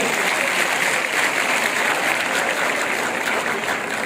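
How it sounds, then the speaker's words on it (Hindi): Thunderous, steady clapping from a big crowd at a student organisation's rally, holding at full strength throughout with no pause. "तालियों की गड़गड़ाहट तेज कर दिया हम लोग।"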